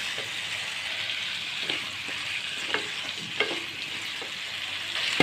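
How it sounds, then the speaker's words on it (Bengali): Taro pieces frying in spiced masala with oil for a fish curry, a constant close sizzle with a few scraping stirs of the spoon. "এখন আমি কচুর গাঁটিগুলো দিয়ে দিব।"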